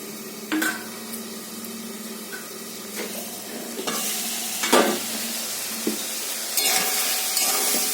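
Pointed gourd and prawns sautéing in a pan with tomato sauce, a steady sizzle broken by several sharp scrapes and clinks of a spatula stirring against the metal, close and fairly loud with no talking.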